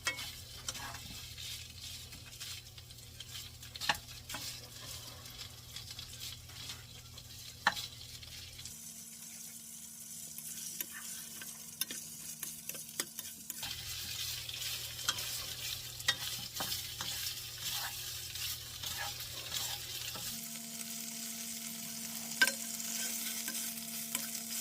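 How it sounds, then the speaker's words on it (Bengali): Sausages sizzle and fry steadily in a pan alongside tomato, with a continuous crackling hiss and occasional stirring clicks, loud and close, no talking. "এটা গরম হবে আর খুব সুন্দর করে ভাজা হচ্ছে, দেখেন।"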